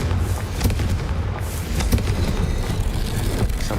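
Confringo spell explosions in Hogwarts Legacy gameplay, a dense, continuous barrage of booming blasts and crackling impacts with heavy low rumble, sustained loud throughout with no pauses.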